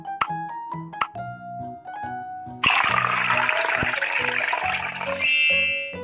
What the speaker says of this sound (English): Pour colored water onto the plate.